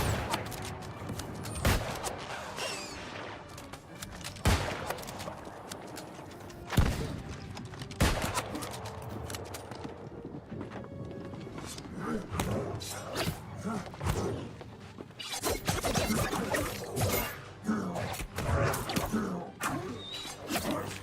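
Gunfire in the New World: Aeternum online game, a steady run of sharp shots and thuds spread across the stretch, some distant and some close, with bursts clustering toward the end.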